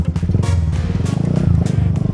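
A motorcycle engine idles and revs steadily nearby, a low rumbling drone with rhythmic pulsing throughout.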